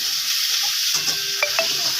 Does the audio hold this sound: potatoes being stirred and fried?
yes